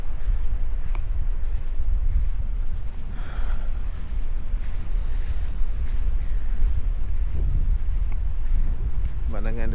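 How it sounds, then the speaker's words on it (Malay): Strong wind buffets the microphone on the Sydney coast near a lighthouse in light rain, a constant low roaring rush, with faint voices briefly breaking through. "Angin kuat sikit"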